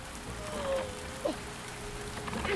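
Rain in The Spirit and the Mouse game, a steady soft patter with light drips, joined by a few brief chirpy tonal game sounds.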